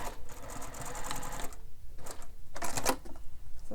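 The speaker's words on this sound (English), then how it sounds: "So it's 3 of them and I'm going to top stitch all 3 of those." A sewing machine top stitches three folds of fabric on a bowler bag, its needle chattering in rapid close bursts separated by brief pauses as the material is repositioned, with no talking.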